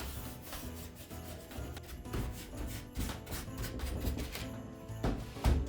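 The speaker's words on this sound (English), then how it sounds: "just lightly kind of wax this to lighten it up" A wax brush scrubs white wax onto a cardboard-backed Christmas nativity figure, making soft, continuous rubbing strokes close by with no talking.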